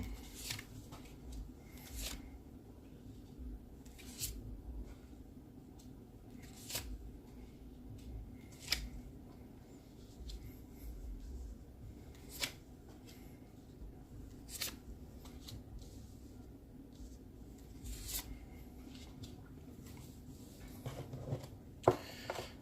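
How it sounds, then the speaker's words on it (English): A tarot deck is cut and shuffled by hand: soft, quiet card riffles and slaps come in scattered bursts, with sharper taps now and then against a hushed room. "let's cut the deck and see what we have to look forward to"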